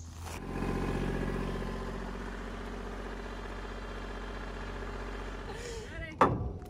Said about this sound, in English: I'll get the tractor.